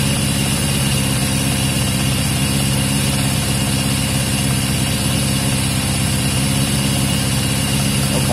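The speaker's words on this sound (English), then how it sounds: "Okay, so it is revving" A Yamaha XJ550 motorcycle with an intermittent fault runs steadily close to the recorder, its engine note loud, dense and continuous throughout with no talking.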